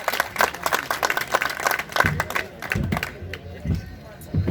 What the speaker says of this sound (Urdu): بھرپور تالیوں سے استقبال کیجیے چودھری خالد گجر